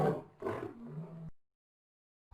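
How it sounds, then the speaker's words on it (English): A lion roars in two or three deep, rough bursts that trail off into a low rumbling growl, then silence follows. "or a lion's roar"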